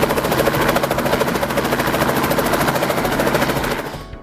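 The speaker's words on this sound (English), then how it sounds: "generating enough lift to get the chopper off the ground and rising" A helicopter lifting off the ground, its rotor blades beating in a loud, fast, steady chop that fills the whole stretch before easing off at the very end.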